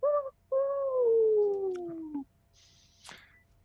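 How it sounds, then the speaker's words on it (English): A very large bird gives a short hoot, then a long, wavering, descending call, followed by a brief harsh rasp; loud and close, with no talk. "Sounds like a very large bird."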